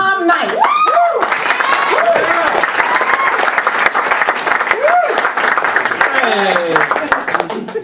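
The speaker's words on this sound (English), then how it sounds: "I heard the applause." A comedy-club audience bursts into loud, sustained applause for stand-up comedian Tom Knight, with cheering and whistles over steady clapping throughout.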